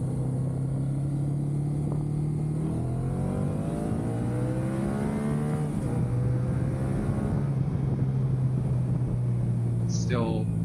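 A motorcycle not yet fully broken in revs under throttle with strong rising and falling engine harmonics, loud and close, steady throughout with wind rush; no speech.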